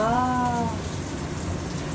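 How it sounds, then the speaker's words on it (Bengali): Steady rain falls continuously at moderate level as a dense, even patter, with a brief tonal voice-like sound at the very start. "বৃষ্টিতে ভিজতে ভালো লাগে না তোমার?"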